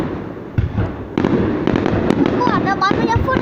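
New Year's Eve fireworks are launched at a provincial celebration in Bac Kan, with a steady crackle and repeated bursts and whistles continuing throughout, while people talk nearby.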